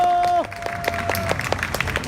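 A live audience at a street candlelight rally in Daegu claps to welcome a speaker, a mother of a Sewol ferry victim. A sustained tone cuts off, then scattered, fairly sparse claps follow at a moderate distance.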